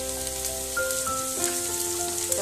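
Sliced snake gourd hitting hot oil with potatoes in a pan on a gas stove with the flame raised, giving a loud, continuous sizzle and crackle close up.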